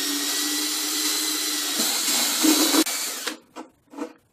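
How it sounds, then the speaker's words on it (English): A power drill with hammer action off bores steadily through the glazed surface of a wall tile with a sustained high whine, then revs down and stops with a few short bursts at the end. "Now it's gone through the glazed surface and it's going right through"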